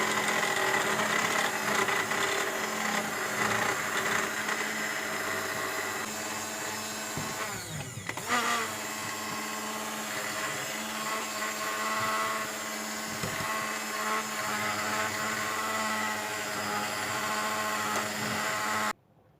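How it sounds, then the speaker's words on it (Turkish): A kitchen blender purees boiled red lentil soup, a steady loud motor whir running unbroken for about nineteen seconds with a brief rougher churning burst partway through, then cutting off abruptly at the end. "Hemen ben blenderdan geçiriyorum."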